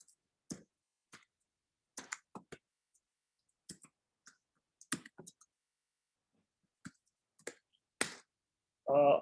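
Keys clack one at a time on a computer keyboard as a network command is typed, with irregular clicks and short pauses between them, fairly close and otherwise quiet, ending in a brief burst of louder noise.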